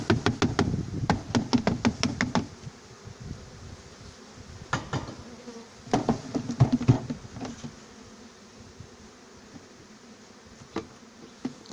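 Honeybees are shaken off a frame into a hive while splitting a colony, with a rapid cluster of knocks and thumps followed by a steady, close buzzing swarm and occasional later taps.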